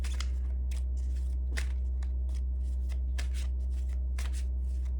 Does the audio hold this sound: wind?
no